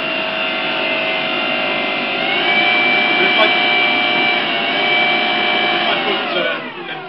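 Model BH7 hovercraft's electric motor running steadily at about 3,000 RPM, a loud, even whine with tonal harmonics that shifts pitch slightly upward partway through, then winds down briefly near the end.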